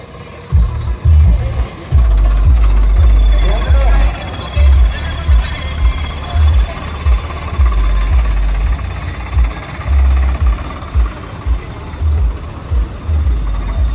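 A heavy tractor engine rumbles loudly and unevenly, chugging and revving in low throbbing bursts at a tractor trolley-pulling competition, with voices talking intermittently over it.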